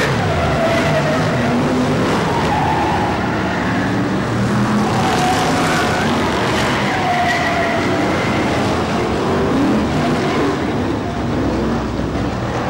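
BriSCA Formula One stock cars roar around the oval raceway at Mildenhall as the field finishes the final, a dense continuous wash of engines with passing whines rising and falling over crowd noise.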